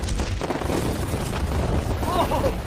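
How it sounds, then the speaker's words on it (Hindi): Fireworks slam into a yacht in a tower defense video game: rumbling booms and crackling bursts over a thick, steady roar of battle, with a voice talking throughout. "उस फायरवर्क्स ने यॉट को हिट किया।"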